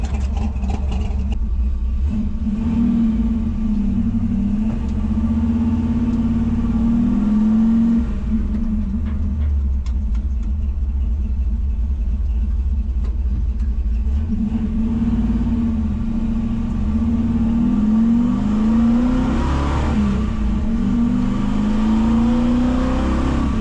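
A 1961 Ford F100 hot rod pickup on the move, its engine giving a steady low rumble that rises and falls gently with speed, heard continuously from inside the cab with no voices.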